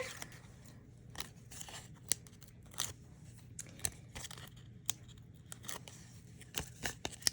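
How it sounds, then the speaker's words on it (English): Adhesive tape crackles and crunches faintly as a paper card is taped up, short irregular snaps and tearing bursts scattered over quiet background. "So we'll just get it good and taped up here."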